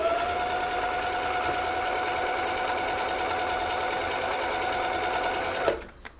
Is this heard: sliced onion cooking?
no